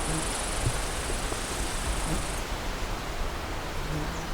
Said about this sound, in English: Lots of insects too.